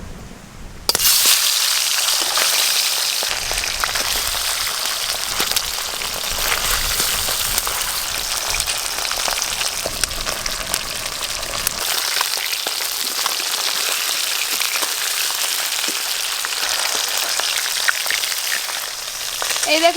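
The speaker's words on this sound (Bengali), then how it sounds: "প্রথমে বাটা মাছগুলো ভালো করে ভেজে নেব।" Bata fish fry in hot oil with a loud, dense, continuous sizzle that crackles steadily up close from start to finish.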